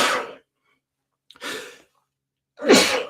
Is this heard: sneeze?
yes